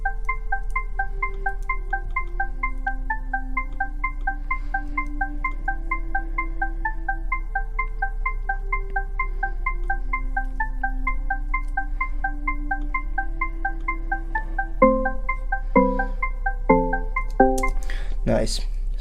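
An electronic house song intro plays alone, with plucky repeating synth notes over a low steady bass hum, building to louder punchy stabs in the final seconds.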